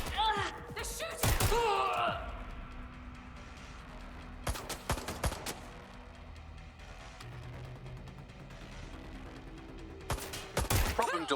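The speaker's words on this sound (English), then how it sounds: "They're shooting!" Gunfire in Watch Dogs: Legion, sharp bursts of rapid shots early, in the middle and near the end over a low game ambience, with a voice talking between the bursts.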